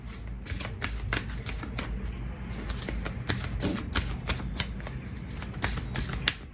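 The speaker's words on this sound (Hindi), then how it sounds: "चलिए मैं कार्ड शफल करती हूँ" Tarot cards are shuffled close by in a rapid, continuous patter of crisp riffling clicks that lasts the whole stretch.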